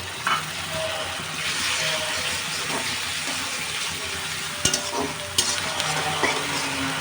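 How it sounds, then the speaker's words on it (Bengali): Onion and garlic paste fries in a pan with green chilies, giving a steady broadband sizzle throughout, with a few sharp clinks of stirring near the end and no talking. "পেঁয়াজটা একটু ভালো করে ভেজে নিচ্ছি।"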